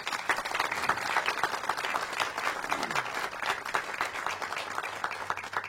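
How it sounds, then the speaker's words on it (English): An audience at a community event applauding employees, staff and community members, a sustained, dense round of clapping from a sizable crowd, loud and steady from start to finish. "So let's give them another round of applause."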